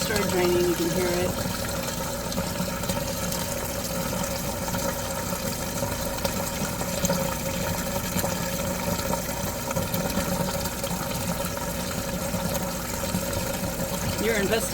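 An RV washing machine pumps its drain water out in a steady, continuous whoosh and hum with a faint trickle, running unbroken and fairly close throughout with quiet talk over it.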